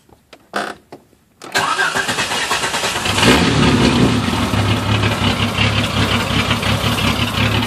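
A car engine cranks and catches through a newly installed push-start button switch, then settles into a steady, close idle after a few clicks and thumps at the start.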